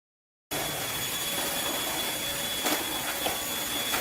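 A small, cheap vacuum cleaner switches on after a brief silence and runs with a steady, bright whine and airy hiss across a wood floor, moderately close, with no talking.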